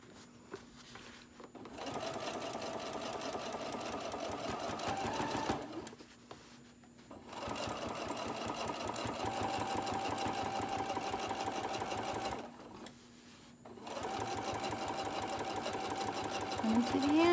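A sewing machine stitching a bottle koozie, its fast motor-driven needle chatter running in three long bursts with short pauses between, close and steady.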